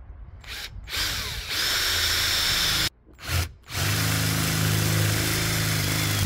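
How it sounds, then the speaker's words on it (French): A power drill with an 8 mm bit bores through a van's metal bodywork, whirring in loud bursts with brief stops, then a steady grinding drone as the bit cuts, no talk. "On va percer à 8."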